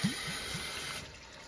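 Water rushes steadily out of the hot hose on a tankless water heater during annual vinegar flushing maintenance, a close, continuous gush with a few low gurgles at the start and no talk.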